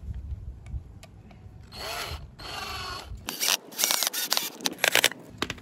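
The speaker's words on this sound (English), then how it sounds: "I'm gonna drill this right into the hole I just made." A power drill whirs in short bursts, then grinds and rattles as it bites into wooden decking covered with joist tape, close by with no talking.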